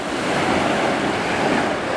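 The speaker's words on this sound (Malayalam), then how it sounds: "കടൽ കയറി വരുന്നുണ്ടോ" Sea waves surge and wash continuously at Pozhiyoor beach during a rough, high-tide swell, a broad steady roar of surf mixed with wind buffeting the microphone.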